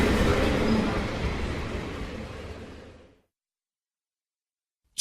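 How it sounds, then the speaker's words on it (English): A train pulling out of a station, a steady broad rumble and rush of wheels that slowly fades over three seconds, then cuts to silence. "Oh, the train's leaving."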